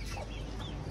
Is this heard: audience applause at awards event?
no